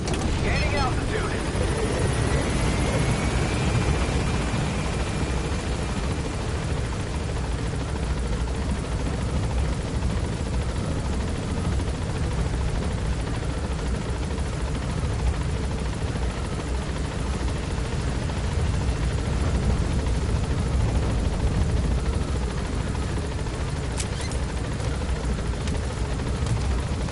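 A helicopter gains altitude in Metal Gear Solid V: The Phantom Pain, its loud, dense rotor roar filling the whole stretch without letup, with a faint rising whine near the start.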